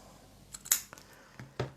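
Scissors snipping a piece of sheer red ribbon for a puzzle card: a few quiet, sharp clicks and snips spaced irregularly over a second or so, close and faint with no talk.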